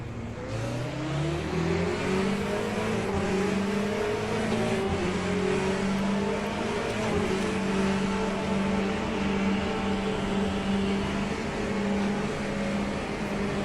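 A race car engine at full throttle in Le Mans Ultimate roars loudly and continuously, its pitch climbing and holding high under sustained acceleration, with no voices.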